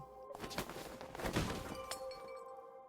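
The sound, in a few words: cutlery and glass clattering to floor, Tears of Themis video game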